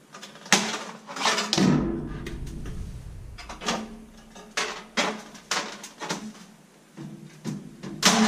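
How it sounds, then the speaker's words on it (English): Tin snips chew through the seam of a 4-inch round duct for a dryer vent, giving a series of sharp, close metallic crunches and clicks in uneven bursts with short pauses between cuts. "It's always good to have sharp snips when you're cutting seams."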